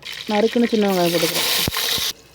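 Oil sizzles and hisses steadily as chopped shallots fry, with a voice talking over the sizzling and a couple of sharp clicks near the end.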